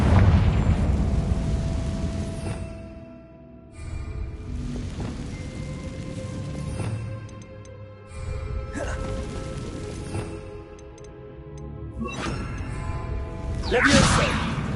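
In the video game Hogwarts Legacy, a Confringo fire spell blasts with several booming bursts and whooshes spread across the span, mixed with game music and a character's voice.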